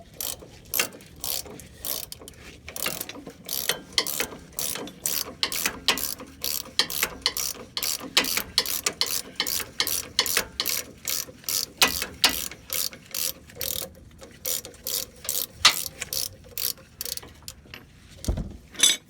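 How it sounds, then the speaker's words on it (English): A ratchet wrench turns a bolt on a Dodge Ram's lower control arm suspension, giving close, rapid rhythmic clicking in repeated bursts with brief pauses between strokes. "On the very top, you hold it with your ratchet."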